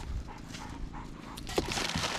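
A dog is heard at a cabin homestead, with panting, whimpering and a single short bark amid rustling and nearby activity.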